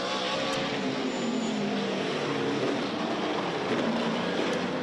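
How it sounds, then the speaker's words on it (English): SVRA stock car engines roar in a continuous, distant wash at Sebring, heard from high above the track, a steady full-field racing drone with no talk over it. "High above, you can hear the roaring engines."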